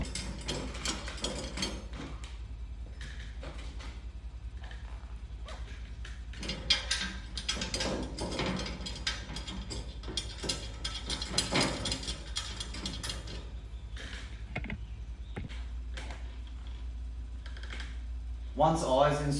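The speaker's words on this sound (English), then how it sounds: "we want to run the two side bolts in here" A ratchet clicks in short bursts while side bolts are run loosely into a Catch Pro Urban Assault series inlet during assembly, with rapid close clicking, pauses between runs and light handling noises.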